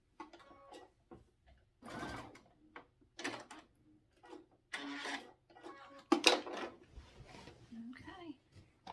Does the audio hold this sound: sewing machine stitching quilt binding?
yes